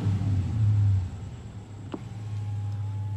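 A Dodge Charger with a muffler delete and 40,000 miles idles with a low, fairly quiet exhaust burble, swelling briefly into a deeper rumble before settling back to a steady drone.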